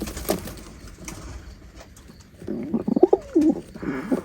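A pair of Royal Teddy pigeons coo in a few soft, rolling bursts close by, the calls clustered near the end after a quieter stretch.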